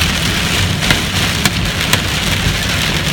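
Large hailstones, some around an inch across, pound down in a hailstorm entering Plainfield, Indiana, a dense steady roar of impacts with a few louder sharp knocks standing out.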